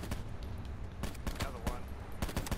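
Rapid gunfire in the Call of Duty Blackout battle royale game, a fast string of sharp shots heard over steady game ambience.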